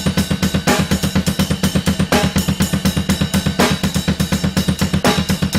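A fast, steady double bass drum pattern with rapid even kick strokes, cymbals and snare hits layered over it, loud and continuous.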